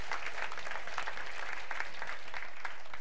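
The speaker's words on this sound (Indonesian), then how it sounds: "Tepuk tangan buat Yesus Kristus." A congregation applauds for Jesus Christ during a pastor's sermon. The clapping is a thick, unbroken wash of sound at a steady level, with no speech over it.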